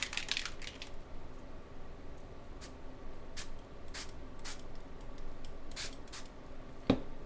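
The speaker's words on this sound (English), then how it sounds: "I'm just going to spray it and then spray some water" Water is sprayed from a spray bottle onto teal paint on a mixed media journal page, with short, faint, repeated spritzes at uneven intervals over quiet room noise.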